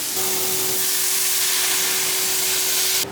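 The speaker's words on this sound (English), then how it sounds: "I'm gonna add some bone broth now." Bone broth goes into a pan of cooking mushrooms, producing a steady hissing sizzle with a faint tonal whine, fairly close and loud, with no talking.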